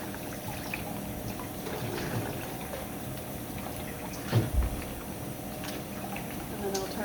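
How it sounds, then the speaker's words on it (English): Water runs and splashes as a polycarbonate chocolate mould frame is rinsed of soap in a sink, a continuous close trickle with a couple of brief knocks, while someone talks over it. "to get rid of the soap and to rinse it off."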